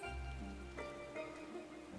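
Steady heavy rainfall in Final Fantasy XIV, a soft continuous patter with a few faint tonal game sounds layered over it and nobody speaking.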